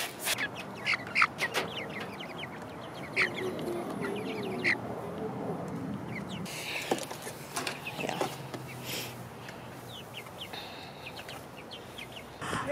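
Backyard chickens cluck and squawk intermittently at moderate distance, with scattered calls and a few louder bursts over a low outdoor hum; no clear talk.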